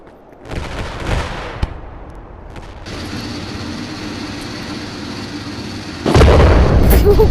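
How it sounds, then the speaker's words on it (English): A grenade exploding in a video game: a heavy blast near the start, a steady rumbling roar, then another loud burst near the end. "Goddamn grenade."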